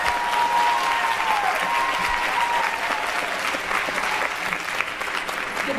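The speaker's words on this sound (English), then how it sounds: "So big round of applause for Katie." A school audience gathered for a grandparents day concert gives a strong, continuous round of applause, many hands clapping evenly throughout, with a faint whistle-like tone briefly heard early on.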